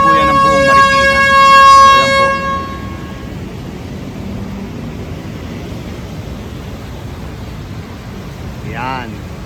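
A loud, wailing river alarm siren horn blares for a couple of seconds at the Marikina River after a typhoon, then cuts off, leaving low background rumble and faint distant sounds.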